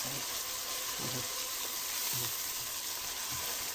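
Red chili dropped into hot oil for lentil soup, giving a steady close sizzle and hiss with a few soft stirring knocks underneath, no talking.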